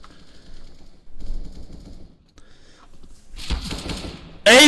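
Gunfire from the video game Counter-Strike on the map Train, with scattered shots under an excited commentator's voice, then a sudden very loud shot cracking at the end.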